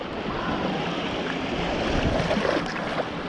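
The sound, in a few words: waves rolling in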